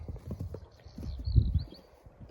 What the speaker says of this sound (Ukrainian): Ось знімаю вам свої коні.